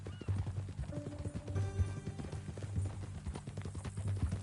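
Horse hooves clopping in an uneven rhythm alongside a whinny, fairly faint and mixed with other background sound.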